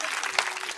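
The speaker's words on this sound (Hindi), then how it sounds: "तालियां जोरदार पीछे।" Audience applause at a Hindi kavi sammelan poetry event, a short dense burst of clapping from a crowd, fairly loud and continuous.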